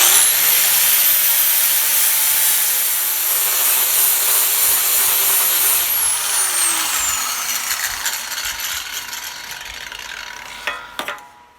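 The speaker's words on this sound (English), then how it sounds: "Now I got to grind that off" A grinder works off a plug weld on a fabricated steel part: a loud, steady, close-up abrasive whine and rasp that holds for most of the stretch, then winds down with a few clanks at the end.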